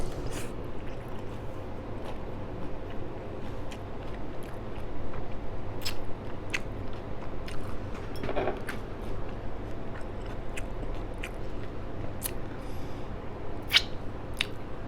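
Someone chewing and biting a taco close to the mic, soft squishy wet mastication with scattered crisp crunchy bites and clicks throughout, steady and alone without talk.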